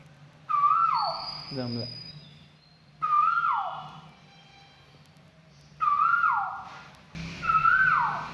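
A man imitates a koel with repeated whistled calls, each a sharp rising note that falls away, coming in four separate bursts with pauses between them. A short spoken word comes in near the start.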